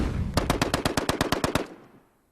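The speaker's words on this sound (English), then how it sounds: "The Browning automatic rifle, model M1918A2, essentially a light machine gun providing fire support in the squad." A Browning Automatic Rifle M1918A2 firing one burst of about twelve rapid, evenly spaced loud shots over roughly a second and a half, then a quick fading echo.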